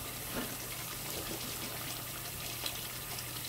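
Tap water runs steadily from a kitchen faucet while raw chicken is being rinsed and cleaned, a continuous gushing stream that stays even throughout with no talk.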